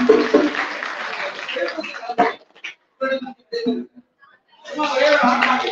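An audience claps for a folk artist receiving an award at a 2024 Tamil folklore exhibition. A broad, steady patter swells at the start and returns near the end, with someone speaking over it and short gaps between.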